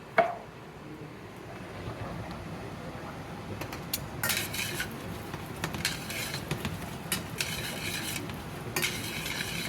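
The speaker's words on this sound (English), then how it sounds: "keep mixing the nuts so they don't burn" Nuts being stirred in a pan while making chocolate mole sauce, a quiet steady scraping and rustling with a few sharper clinks of utensil on metal, near and soft, alone without talk.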